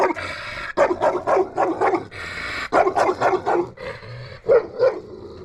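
A guard dog on a farm barks at night in quick, loud, repeated bursts close by, a string of sharp barks separated by brief pauses.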